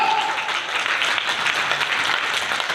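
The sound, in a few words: audience applause at business launch event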